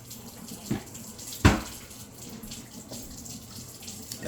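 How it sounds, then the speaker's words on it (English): A measuring cup and mixer beaters being washed under a running kitchen tap, water streaming softly with a few sharper splashes and knocks as the items shift under the flow. "Gotta wash my measuring cup, my mixers."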